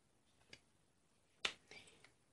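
A single crisp finger snap during a close-up card trick, sharp and near against a quiet room, with a couple of softer clicks of card handling around it.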